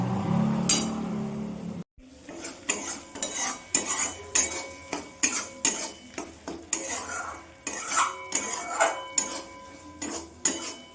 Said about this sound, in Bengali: আমি এখন মশলাটা ভালো করে কষিয়ে নেব।